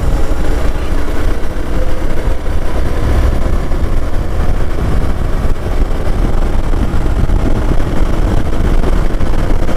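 A Hero Xpulse 200 4V 2022 BS6 motorcycle engine runs and revs steadily, with a loud, close, continuous rumble mixed with wind noise and no pauses.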